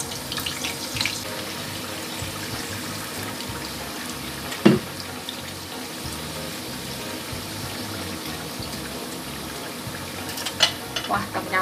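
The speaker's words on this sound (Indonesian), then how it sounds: "Kita goreng kentangnya dengan api kecil cenderung sedang ya" Potato patties (perkedel kentang) fry in oil over a low-to-medium flame, giving a quiet, steady sizzle with soft crackles and one brief clatter partway through.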